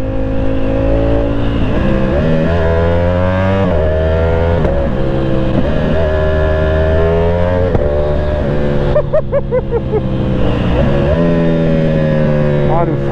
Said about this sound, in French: Ah, le frein moteur du 1100 est magnifique.